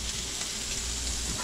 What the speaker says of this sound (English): Hear that sizzle, baby? We cooking.